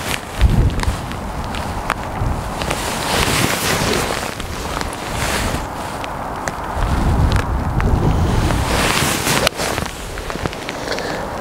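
Wind blows across the Dundonald Links golf course in Scotland in rough weather, producing gusty buffeting against the microphone, uneven rushes and thumps that rise and fall, with no speech.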